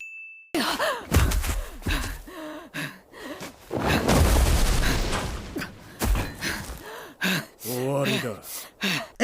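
Anime characters in The Promised Neverland pant and gasp as they run, with quick voiced breaths alternating with spoken lines and bursts of dramatic sound effects and music.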